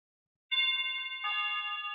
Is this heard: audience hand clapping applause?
no